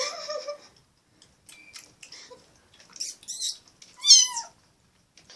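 Young kittens feeding, letting out several thin high-pitched meows scattered across the moment, with one louder, rising cry near the end amid quiet shuffling.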